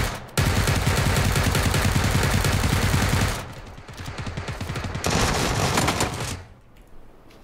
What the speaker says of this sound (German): Ja, ich schieß mal die Deckung kurz.